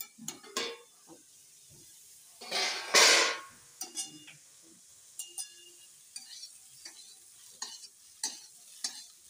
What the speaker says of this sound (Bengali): ফুলকপিগুলো সুন্দর ভাজা হয়ে গেছে।